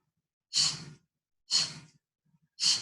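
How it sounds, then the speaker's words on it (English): Three forceful, breathy exhales come about a second apart from a person doing breath of fire during a barre workout, close and clear with silence between them. "Fire breath."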